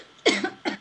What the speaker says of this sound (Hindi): खांसी आ रही